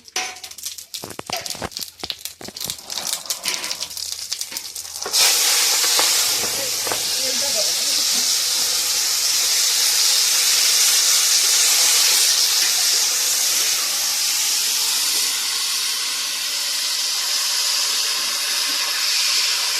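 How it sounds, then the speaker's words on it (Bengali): Bay leaf and cumin hit hot mustard oil in a pan with a sudden loud sizzle, which then holds as a steady, close frying hiss for the rest of the clip after a few sharp clatters. "সরষের তেল দিয়ে দিলাম, তেজপাতা, জিরে"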